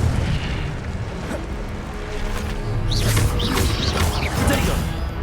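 An Incendio fire spell cast in Hogwarts Legacy, a rumbling magical whoosh with mechanical clanks and crackling bursts that grow denser toward the end, loud and close over a game background.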